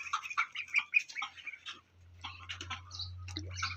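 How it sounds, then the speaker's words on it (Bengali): Chinese ducklings peeping and chirping in quick, high bursts, close by, with a low steady hum joining partway through; no talk. "এই যে হচ্ছে আমার কিছু চীনা হাঁসের বাচ্চা"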